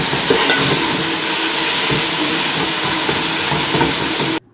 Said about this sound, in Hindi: अदरक लहसुन के पेस्ट को थोड़ा-सा पका लेंगे